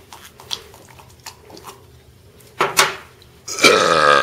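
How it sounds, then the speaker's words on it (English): A loud burp bursts out at the end after a few quieter mouth and swallowing noises, close to the microphone with no talking. "That was a fantastic burp."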